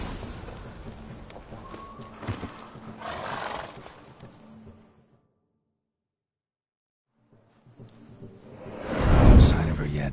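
Roach, Geralt's horse in The Witcher 3, stirs with shuffling hooves and a snort, then falls silent for a few seconds before a loud, close whinny and heavy breathing.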